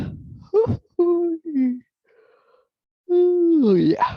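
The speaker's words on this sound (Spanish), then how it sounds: "lo siento, parece bostezo" A person lets out a drawn-out yawn with a low groaning vocal tone, broken into a few stretched moans, close to the microphone in a quiet room.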